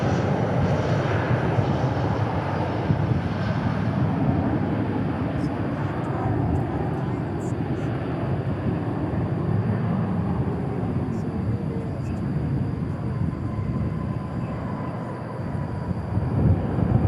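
Delta Airlines Airbus A321 jet passing over DFW International Airport, a continuous broad engine roar at moderate distance with a light high whine.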